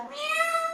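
A single clear cat meow, drawn out and rising then falling, close and fairly loud.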